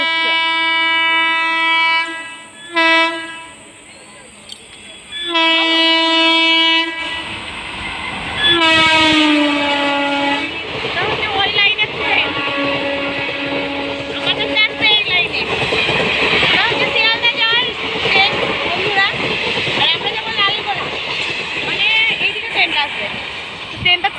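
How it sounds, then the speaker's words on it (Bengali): A train enters a station and passes through without stopping. Loud horn blasts come first, then the train rumbles and clatters past close by, with people talking over it. "দেখো ট্রেন ঢুকছে।"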